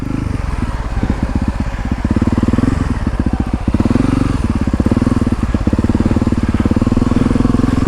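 An off-road motorcycle engine revs hard and steadily through wheelie practice, its loud, close buzzing rising in repeated surges as the front wheel is popped, with no talking over it.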